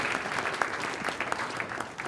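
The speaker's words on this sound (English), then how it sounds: "One more round of applause" Audience applause at a startup pitch event in a tech village, steady dense clapping close up throughout, with no talk over it.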